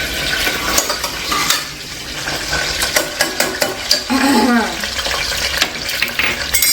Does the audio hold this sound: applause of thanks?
no